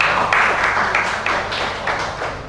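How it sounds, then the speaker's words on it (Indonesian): Audience applause for two speakers at a panel dialogue, a dense, fairly loud wash of many hands clapping that holds steady and tapers slightly toward the end. "Kita berikan tepuk tangan untuk kedua narasumber kita."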